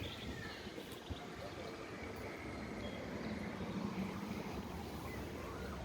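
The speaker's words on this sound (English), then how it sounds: "we decided to take a nice boat ride instead" A boat ride on the water at Efteling theme park in Kaatsheuvel makes a faint, steady wash of water and breezy wind noise, with soft voices in the background.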